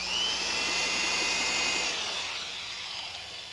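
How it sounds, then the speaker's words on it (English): An electric drill bores into wood with a steady high-pitched whine that holds for about two seconds, then winds down and fades as the motor slows. "An electric drill."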